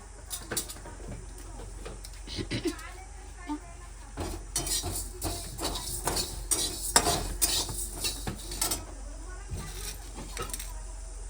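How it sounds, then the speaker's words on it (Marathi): Cinnamon sticks are snapped by hand over a kitchen counter, giving a series of sharp, close dry cracks and clicks that grow busier midway, with faint clinks of utensils around them. "आता हे दालचीन मिक्सरला बारीक व्हावं म्हणून मी हे थोडे तोडून टाकतोय"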